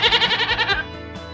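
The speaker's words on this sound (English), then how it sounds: "Goats say bleat." A goat gives one near, wavering bleat of rapid pulses, loud and alone, ending in a short fading tail.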